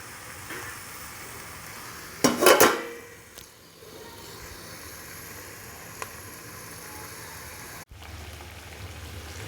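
Chicken curry being fried down in a covered pan gives a faint, steady sizzle throughout, broken by a brief louder clatter near the start and a small knock later on.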